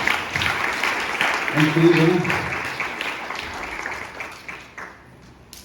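Church congregation applauding during a sermon, a steady wash of clapping under a voice speaking over it, gradually fading toward the end.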